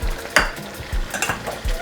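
Habanero peppers stirred into pork masala curry sizzling in a pan, with repeated scraping spoon strokes and steady frying hiss, close and clear with no talk.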